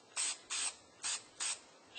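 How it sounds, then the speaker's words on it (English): Four short, even bursts of blue spray paint hiss from a nearby can, each about a fifth of a second long and separated by brief pauses, in a quiet room with no talking. "just a quick spray, just like so"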